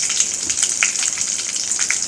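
Urad dal sizzles and crackles in hot oil in a pan, a continuous bright frying hiss with small pops, close and alone.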